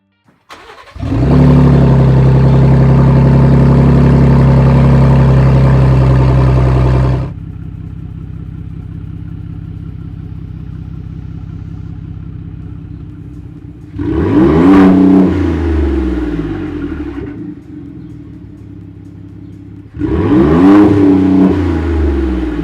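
A Ford F-150 Raptor V6 with its exhaust removed but catalytic converters still fitted starts and holds a loud, raspy rev, then gives two sharp throttle blips with rising and falling pitch, close up and with no voices.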